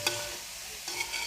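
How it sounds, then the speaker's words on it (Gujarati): Grated carrots roasting in ghee for carrot halwa while being stirred, a soft sizzle with brief scraping strokes of the spoon at the start and near the end, faint and close. "આપણે તેને ઘીમાં શેકાવા દેશું એકદમ"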